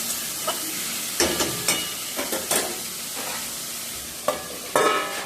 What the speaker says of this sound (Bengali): লবণ হলুদ দিয়ে ঢাকা দিয়ে দেবো তাহলে টমেটোটাও গলে যাবে আর ভাজাও ভালো হবে